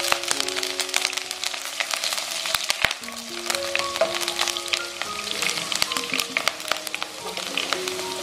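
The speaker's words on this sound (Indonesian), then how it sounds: "tumis dulu bawang bombay." Onions sautéing in a hot pan for a chayote dish, a dense crackling sizzle full of sharp pops and spits, close and continuous with faint scraping stirs and no talking.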